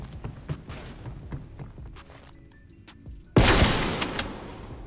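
Gunfire in Call of Duty Black Ops Cold War: a string of sharp shots and clicks with quieter handling noises, then one loud blast that rings out and decays, close and without talk.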